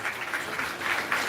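Audience applause at a live Karnatak University Dharwad event welcoming a university vice chancellor: a brief wash of moderately faint, even clapping from a crowd, with no voices.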